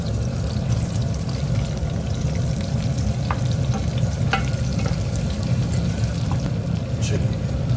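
Onions frying in a pan, a dense, continuous close sizzle with a broad rumbling bed and a few light clicks of stirring, steady in loudness throughout.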